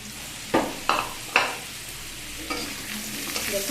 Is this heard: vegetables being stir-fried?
yes